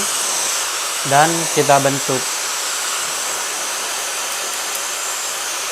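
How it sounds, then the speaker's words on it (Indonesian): A hair dryer blows steadily while drying and styling hair for an undercut fade, a close, constant airy hiss with motor whine lasting throughout, with a person speaking briefly over it early on. "Tinggal kita styling menggunakan hair dryer."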